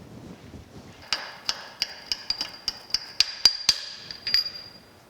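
A hammer taps a part out of a Lucas horizontal boring mill with a series of sharp, ringing metallic knocks. They come irregularly and speed up, close and clear with no talk.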